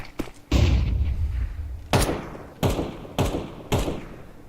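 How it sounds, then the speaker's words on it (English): Flashbang grenade and gunfire in a Counter-Strike match: a loud burst followed by four sharp, evenly spaced bangs with decaying tails, close and prominent, with no talking. "Deploying flashbang."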